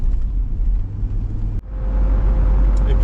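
A car rolls through road traffic near Palm Springs, heard as a steady, fairly loud rumble of engine and tires with a brief dropout midway, then the drive continues, with no talking.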